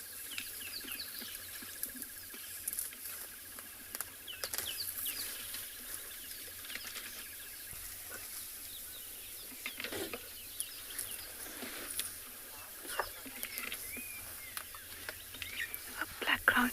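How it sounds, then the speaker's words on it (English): Morning in the South African bush with scattered bird calls and chirps, some clucking like fowl, plus soft rustling and crunching that may be elephants feeding, all faint and spread out over quiet background ambience. "Just listen to the lovely sounds, the birds and the elephants eating."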